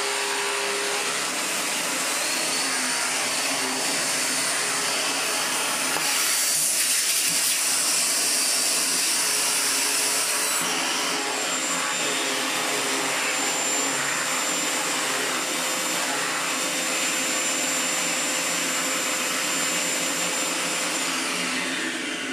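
A vacuum cleaner motor runs steadily for the whole stretch, a loud, continuous whine and rush of air that swells briefly in the middle, with no voices over it.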